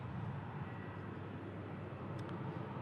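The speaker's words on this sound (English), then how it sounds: "We're just touching down in from London Heathrow" A British Airways airliner touching down from London Heathrow, heard as a steady, broadband engine roar at a moderate distance, constant and unbroken throughout with no voices over it.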